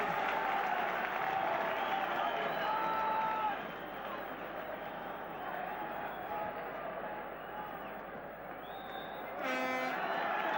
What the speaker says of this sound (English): The Aberdeen supporters cheer their favourites off